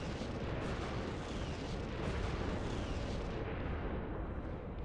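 Radiation bombs pound a planet's surface in the space strategy game Sins of a Solar Empire, a dense, continuous barrage of loud overlapping blasts and roaring rumble with no pause.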